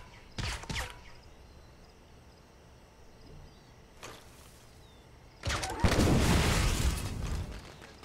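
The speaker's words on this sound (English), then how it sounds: "Firecrackers are crazy." Firecrackers bursting in the Assassin's Creed Rogue video game: a short pair of sharp cracks, then a single faint pop, followed by a louder, denser crackling volley that rattles on for about two and a half seconds, with no talk over it.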